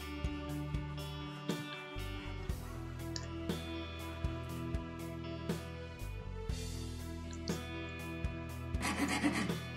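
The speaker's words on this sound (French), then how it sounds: "d'abord à la lime à bois, qui était vraiment indispensable ici pour pouvoir façonner" A wood rasp shapes the handle scales of a handmade combat knife, with repeated rough scraping strokes in a steady rhythm, close and alone with no talk.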